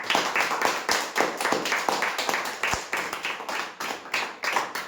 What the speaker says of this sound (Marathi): एकदा जोरदार टाळ्या होऊ द्या आपल्या सर्व एजंट मित्रांकरिता.